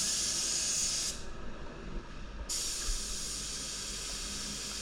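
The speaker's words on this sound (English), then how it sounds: "I've got a piece of paper stuck on the wall to practice spraying out first" Paint spray gun at 2 bar test spraying onto paper taped to a wall, a steady loud hiss that stops for about a second and then resumes, close and alone.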